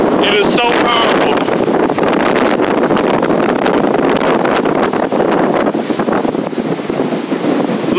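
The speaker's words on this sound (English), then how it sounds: "the power of this wind, y'all, it's truly amazing" Very strong wind at Manhattan Beach, California, roaring loudly and continuously into the microphone with heavy buffeting and surf-like rushing; a voice is briefly heard early on.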